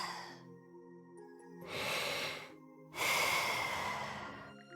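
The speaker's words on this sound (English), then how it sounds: "steady breathing fills the air" Slow, steady breathing of a sleeping character in Ys X: Nordics, in two long, airy swells, close and quiet, with a soft pause between breaths over a faint musical background.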